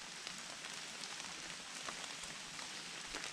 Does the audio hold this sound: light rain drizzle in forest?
yes